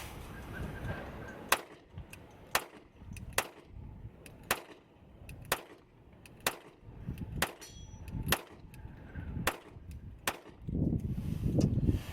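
Sharp, loud pistol shots from a SCCY CPX-2 at an outdoor shooting range, about a dozen evenly spaced reports with brief ringing tails, fired one after another at a steady pace.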